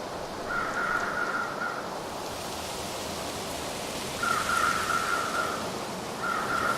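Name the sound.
video game ambience: wind moving through trees, crows cawing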